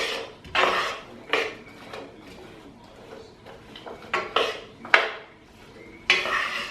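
Ham pieces stirred with a utensil in olive oil in a pot while making minestrone soup, giving repeated clinks and scrapes of metal on the pot in uneven bursts, fairly close, with no talking.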